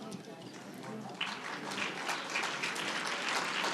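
An audience at a Pennsylvania energy conference panel applauds for the Pennsylvania Manufacturers Association, with moderate, steady clapping that swells slightly toward the end, heard from within the room alongside some voices.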